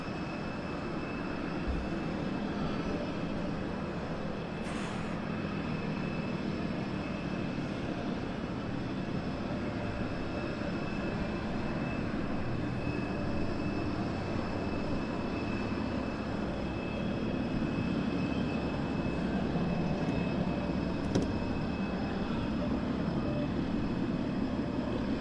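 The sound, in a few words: Spitfire aircraft taxiing out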